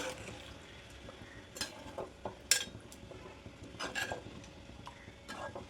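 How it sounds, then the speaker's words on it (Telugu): A spoon stirs fish curry gently in a pot after tamarind juice goes in, with faint scattered clinks and scrapes against the pan over a quiet background simmer. "చింతపండు రసం వేసుకున్న తర్వాత నెమ్మదిగా కలుపుకోవాలండి"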